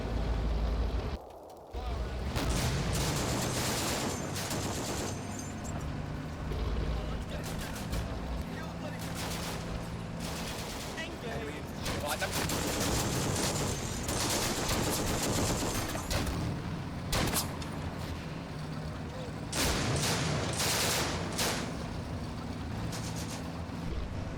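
A sustained gunfire exchange in Combat Mission: Afrika Korps, with machine-gun bursts, rifle shots and occasional explosions rattling almost continuously and loud, while a person talks over the battle.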